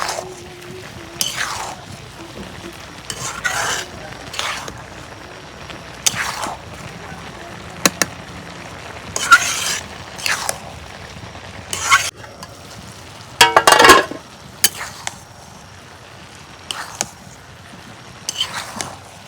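Dried fish and bottle gourd cook on a clay stove while a spatula stirs them in repeated scraping strokes over a soft, continuous sizzle. The strokes come in irregular bursts, with one loud cluster near the end.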